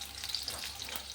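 Onions sauté in a pan as the base for a Punjabi paneer lababdar gravy, giving a steady, close hiss of frying that continues without a break.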